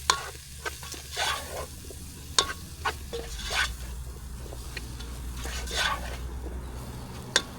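Curry ingredients fry on a Trangia camping stove, a steady close sizzle broken by sharp scrapes and clicks of stirring, with faint talk in the background.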